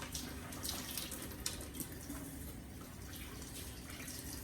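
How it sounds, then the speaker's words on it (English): Hands being washed under a running kitchen tap, a steady close rush of water splashing into a sink with small drips and splatters, continuous and alone. "Wash my hands off."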